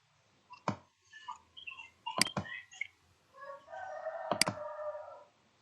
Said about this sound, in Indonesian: Ayam siapa?